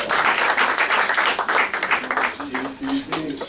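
Congregation clapping together during a French-language church service, a steady dense patter of many hands filling the space, with voices singing or calling out over it toward the end.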